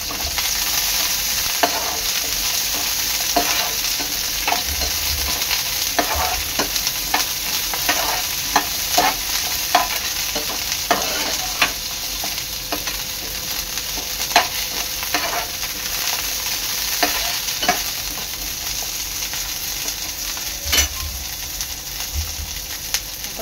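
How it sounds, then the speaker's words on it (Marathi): Cauliflower sautéing in a pan for veg kolhapuri gives a steady broad sizzle, with frequent sharp spatula scrapes and stirring knocks throughout. Close and fairly loud, with no talking. "चांगला 3 ते 4 मिनिटं परतून घ्यायचं आहे।"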